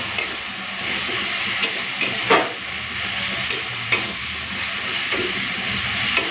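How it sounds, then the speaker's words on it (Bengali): Spice paste of ground masala, turmeric and Kashmiri red chilli powder sautéed in oil for mutton curry, a steady close sizzle and hiss with occasional scraping stirs, no talking. "মশলাটাকে ভালো করে কষে নিই।"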